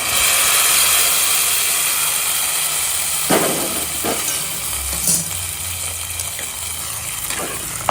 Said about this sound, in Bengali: এবার ফোড়নটা এর মধ্যে দিই